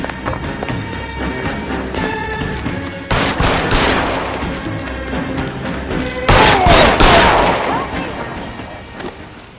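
Gunfire breaks out in LA Noire: loud, close volleys of rapid shots in two main clusters over tense background, while voices shout during the firefight.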